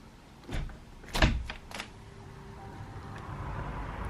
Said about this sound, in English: I'm going to carefully open the door.